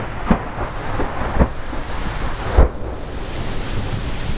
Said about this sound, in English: Yeah, it's blowing down some leaves and some branches.